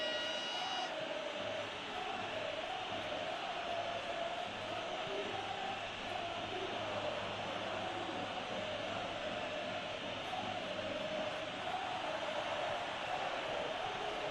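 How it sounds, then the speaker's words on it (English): Steady roar of a large football stadium crowd at a Real Madrid versus Barcelona El Clásico LaLiga match, a continuous distant wash of cheering and noise that holds level throughout. "the crowd clearly like what they just saw, some real no-nonsense defending"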